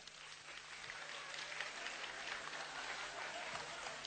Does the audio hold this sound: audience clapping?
yes